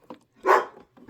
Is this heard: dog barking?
yes